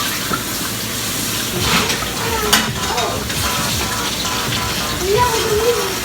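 Hot water runs from a kitchen tap into a sink, a steady rushing spray with small clatters and splashes, fairly loud and close.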